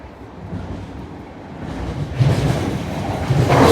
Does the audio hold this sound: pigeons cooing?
no